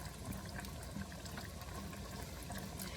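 Rotini pasta stirred in a pot of water on the stove, a continuous wet sloshing and bubbling that fills the background without a break and without any talk.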